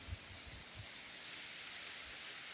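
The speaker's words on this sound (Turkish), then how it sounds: "Yağmur başladı." Steady broadband hiss of rain falling, continuous and fairly soft, with a few low thumps early on and no voices.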